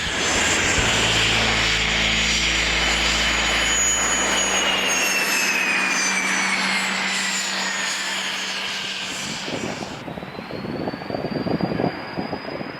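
An Eclipse light jet spools its engines to full power on the takeoff roll, a loud steady roar with a rising high whine, easing off after about ten seconds.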